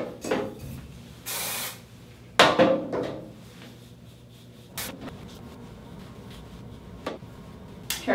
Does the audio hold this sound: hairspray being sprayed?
yes